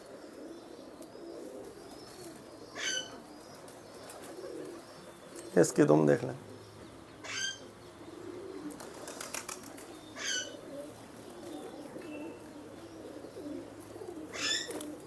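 Large pigeons of a prized breed from Jammu and Kashmir coo in low repeated bursts, with a loud flurry of flapping wings near the middle and scattered chirps throughout, while someone talks close by.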